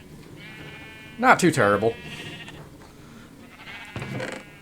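Blocky video-game sheep bleat twice, a quavering call around a second in and a fainter one near the end, inside a Minecraft dispenser wool farm of sixteen cells in a line; a voice talks briefly over the low hum.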